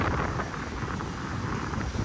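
Strong gusting wind batters the microphone in a continuous roaring rumble outdoors on a windy, clear day in the Philippines, with no other sounds emerging.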